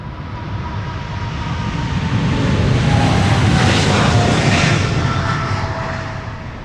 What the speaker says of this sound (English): This is Emirates Sky Cargo to Dubai World Center, flight 9920, 777 freighter